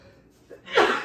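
A single sharp sneeze bursts out near the end after a quick intake of breath, loud and close.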